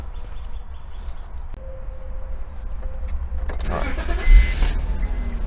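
A 2000 BMW 323Ci engine cranks and catches near the end, a brief loud burst of starter and ignition that settles into a steady idle, preceded by quiet interior hum.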